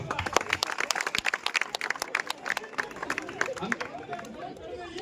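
A crowd at a Republic Day celebration in a neighbourhood club claps in welcome, the quick claps mixed with chatter and voices, then thinning into background murmur near the end.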